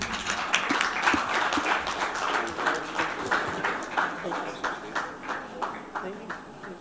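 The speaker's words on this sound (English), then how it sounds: "Can I have a round of applause, please?" Audience applause at a South Asia youth leadership event as a guest is called on stage to present mementos, with individual claps distinct in a loose, uneven rhythm that fades toward the end.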